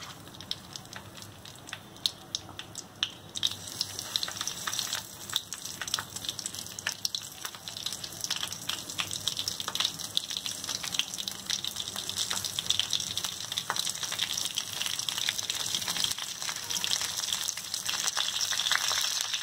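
Stuffed chillies fry in hot oil with a continuous crackling sizzle that grows fuller and brighter after a few seconds, as pieces are added one by one, close and steady with no voices.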